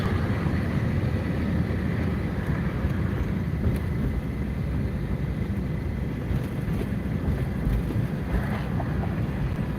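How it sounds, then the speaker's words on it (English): Strong wind out of the south roars steadily across the microphone, a constant loud rumbling buffet with no pauses, heard alone. "wind's really clipping out of the south today"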